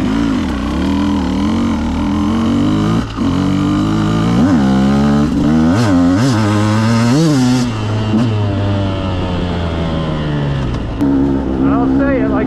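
A Beta 200RR two-stroke dirt bike is ridden in the desert, its engine loud and near, revving up and down in repeated surges with wind noise and voices mixed in.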